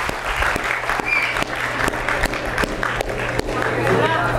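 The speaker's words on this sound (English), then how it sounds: "Let's have a big round of applause for everyone." Audience applause at a university keynote session in Indore, a sustained wash of many hands clapping with a few sharp louder claps and faint crowd voices underneath.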